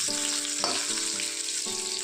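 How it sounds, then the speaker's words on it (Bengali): A parboiled potato frying lightly in white oil in a wok on a gas stove, giving a constant loud close sizzle with a faint steady hum and brief stirring shifts throughout. "গ্যাসে কড়াই বসিয়ে সাদা তেল দিয়ে আমি একটা আলু একটু ভাপিয়ে নিয়েছি, এটাকে ভেজে দেবো হালকা করে"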